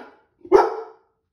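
A single dog bark rings out, loud and close, one short burst with a brief trailing tail, standing alone against near silence.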